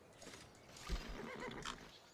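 A single horse in the video game Civilization V whinnies briefly, a short rising and falling neigh with a soft snort, close and moderately loud.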